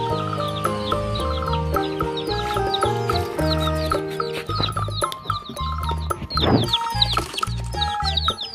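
Chickens and chicks clucking and peeping close by, a busy overlapping chatter of calls with a louder squawk near the end.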